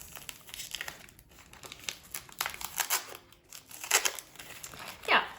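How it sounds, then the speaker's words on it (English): Plastic wrapping crinkles and crackles close by as a packaged aroid or hoya plant from an online plant store is unwrapped, with irregular rustling bursts that grow louder toward the end. "I'm just going to unwrap the whole thing."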